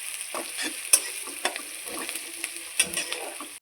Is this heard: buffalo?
no